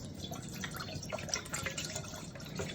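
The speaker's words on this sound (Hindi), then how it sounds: "एक पैन ले लिया है, पैन में थोड़ा सा पानी शामिल करेंगे।" Water pours and trickles into a cooking pan, a soft continuous splashing with small drips, quiet and alone without talk.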